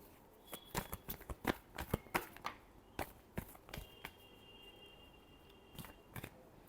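Tarot cards being shuffled by hand, a run of quick papery riffles and taps that bunch up early and thin out later, fairly close and fairly quiet, with no speech over them.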